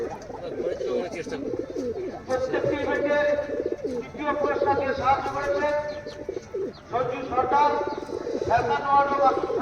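Teddy pigeons in a loft coo in repeated throaty, rolling phrases, close and fairly loud, while a voice talks at times.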